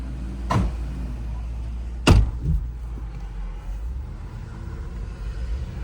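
A Range Rover L322 idling in gear and nearly stalling, its low engine rumble steady underneath, broken by a couple of sharp knocks and a door or mechanical thump, close and moderately loud.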